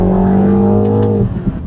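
A Mini John Cooper Works with a 2-liter turbocharged four-cylinder engine accelerates hard, its loud, close engine drone holding a strong tone for over a second before breaking off into quieter rumbles.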